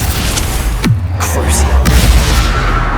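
A Bombarda spell explosion in Hogwarts Legacy lands with a deep boom and a brief whooshing sweep, then a rumbling blast tail sits over steady game background sound.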